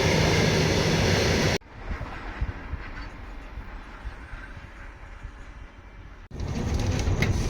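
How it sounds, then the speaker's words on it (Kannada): A train pulls into a station on the Bengaluru–Delhi Rajdhani Express route, its steady rumble and rolling noise filling the platform, dipping in the middle and then swelling loud again near the end. "ಟ್ರೈನ್ ಬಂತಲ್ಲ ಈ ಕಡೆಯಿಂದ ಕೂರ್ಸ."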